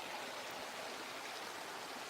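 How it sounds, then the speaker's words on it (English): A river flowing in the background, a steady, even hiss of rushing water that holds constant throughout, soft and distant with no other sounds or voices. "you can hear the river actually in the background"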